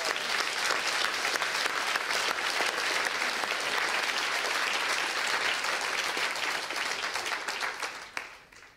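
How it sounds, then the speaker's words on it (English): Loud, dense audience applause sustained for several seconds, a continuous wash of clapping that tapers off at the end, with no talking over it. "Give her a round of applause"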